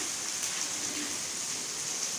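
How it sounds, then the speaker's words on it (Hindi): Heavy rain falls steadily with a dense, constant hiss that does not let up, heard outdoors during a strong downpour in Chandrapur. No voices are heard. "बारिश देख रहा है।"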